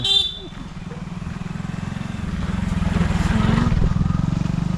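A motorbike running on a village lane, its steady close engine putter holding throughout and swelling slightly as it nears, with a brief voice at the start.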